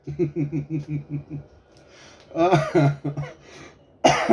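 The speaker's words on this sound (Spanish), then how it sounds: "No me río más porque me da tos" A run of rhythmic, voiced bursts like laughing gives way to a few harsh coughs and throat-clearing sounds, close and fairly loud.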